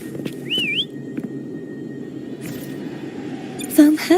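A short rising whistle, the call for a horse in the video game Wuthering Waves, sounds once near the start over steady game ambience, with a brief second whistle-like tone near the end.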